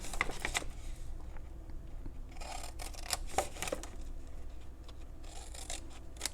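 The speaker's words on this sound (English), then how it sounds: "I'm going to cut up on the rest of these score lines" Scissors snip through paper along the score lines of a handmade tall, narrow gift bag, a series of close crisp cuts in irregular bursts with quiet gaps between them.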